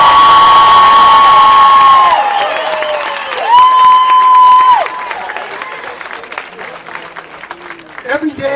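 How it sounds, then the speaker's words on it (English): A protest crowd applauding and cheering for Border Patrol and ICE: loud, close clapping and whoops mixed with shouting voices, swelling then thinning out. "Put your hands together for Border Patrol and ICE."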